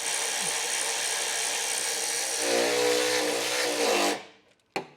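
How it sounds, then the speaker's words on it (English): A power drill pre-drills a hole with a small bit on a 2024 Ford F-250 pickup, whining steadily at close range, its motor pitch shifting midway, then cuts off abruptly, followed by a brief clatter. "I do recommend pre-drilling out a hole using a small drill bit"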